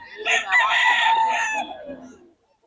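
A rooster in Bocaue crows once, close and clear, in a single drawn-out call that fades away into quiet.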